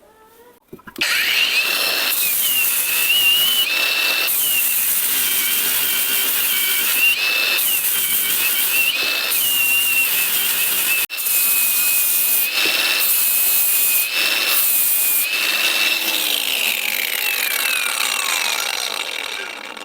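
A Grosser GAG 120KB cordless angle grinder runs on third speed with a grinding disc pressed into a workpiece, giving a loud, steady high whine with brief dips and surges as pressure changes; no one talks.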